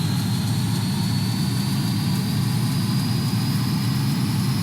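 A King Air C90 turboprop engine running after a cold-and-dark start in X-Plane 11, a steady loud whine and roar with a constant low drone and no breaks.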